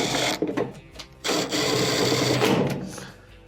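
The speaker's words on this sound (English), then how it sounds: "Let's reinstall the two rear 1/4" screws." Two rear quarter-inch screws being driven into a clothes dryer's console, a continuous loud grinding whir with a brief pause between runs, close and alone.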